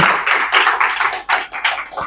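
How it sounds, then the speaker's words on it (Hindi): Loud applause from a gathered audience welcoming company representatives and seniors, dense rapid clapping close by and continuing throughout, with brief dips in intensity. "ऐसे कंपनियां और ऐसे सीनियर के लिए और इस सिस्टम के लिए जोरदार तालियों के साथ स्वागत"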